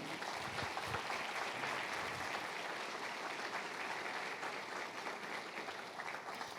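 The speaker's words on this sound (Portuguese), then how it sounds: "vamos dar a Deus uma linda salva de palmas." Steady applause from a church congregation, a dense wash of clapping that holds at an even level throughout.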